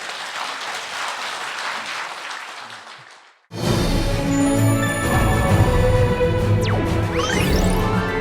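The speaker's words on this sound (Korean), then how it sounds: "큰 박수로 청해 주시기 바랍니다" Applause from a forum audience at a Buddhist conference on religion, dense clapping that fades to near silence, followed by a sudden switch to a noisy, tonal passage with sweeping whistle-like sounds.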